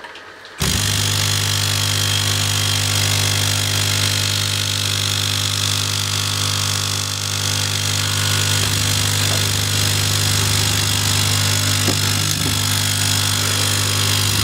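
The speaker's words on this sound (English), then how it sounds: "So let me turn on the air compressor. It will be a little bit noisy" An air compressor runs steadily and loudly after a sudden start, a constant mechanical drone with a low hum that continues without a break, set up as air assist for laser cutting of wood and plywood.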